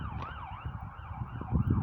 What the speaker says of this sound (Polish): to co jedzie na sygnale to nie jedzie do mnie teraz